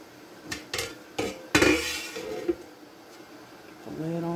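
Metal clanks and knocks as a lid is set onto a water-bath canning pot holding jars of dried beans, several sharp clinks in a row followed by a quieter bubbling hum.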